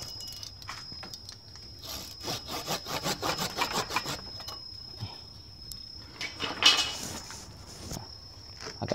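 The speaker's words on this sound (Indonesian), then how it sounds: "Ini kayunya yang keras apa geraji yang kurang tajam ya" A hand saw cuts through hard bonsai wood in rapid, scratchy back-and-forth strokes, loud and close, pausing briefly between runs of sawing; a steady high insect-like whine hums in the background throughout.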